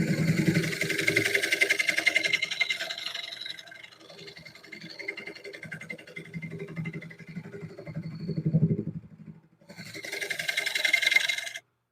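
Wood lathe turning a plate while a carbide tool cuts the tenon, a whirring spin with bursts of scraping cut noise that fade and return, close and moderately loud without speech.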